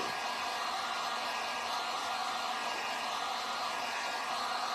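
A hair dryer blows steadily to dry paint on a wooden Nutcracker porch leaner, a constant close whooshing hum with no breaks.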